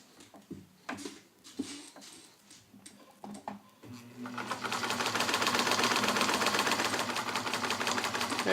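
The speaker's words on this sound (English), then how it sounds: "Here, 2 layers of denim, and then you're also going to see these really dense seams." A Morse Super Dial heavy-duty sewing machine, Toyota-made, stitches through two layers of dense denim seams. Scattered handling clicks come first, then a loud, steady, rapid mechanical chatter of the needle running continuously.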